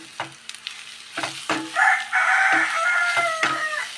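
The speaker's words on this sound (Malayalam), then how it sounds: "ഇനി നമുക്ക് നമ്മൾ ഇളക്കി കൊടുക്കട്ടോ എന്നിട്ടൊന്ന് മൂടി വെച്ച് വേവിക്കണം" Chopped ivy gourd stirred with turmeric and salt in a hot pan, giving several scraping strokes over a bright sizzle that swells midway; no talking is heard.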